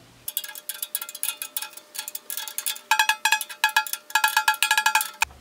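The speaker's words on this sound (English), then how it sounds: "I'm just going to work my way around this bottom head and bring it into the tune that I like." A snare drum's bottom head is tuned by tapping around the rim, giving rapid bright metallic pings in clusters with brief pauses, close and alone, as the pitch settles higher.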